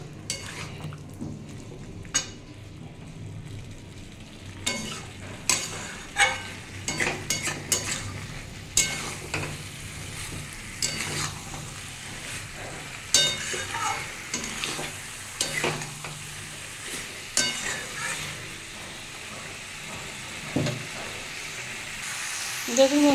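Green jackfruit and fried potato pieces are sautéed in a pan, with a continuous soft sizzle under repeated spatula scrapes and knocks against the pan in an irregular rhythm.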